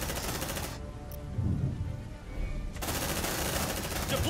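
Sentry gun firing in Aliens: Dark Descent, rapid automatic bursts that stop abruptly for about two seconds and then resume, loud and dense, with no speech over it.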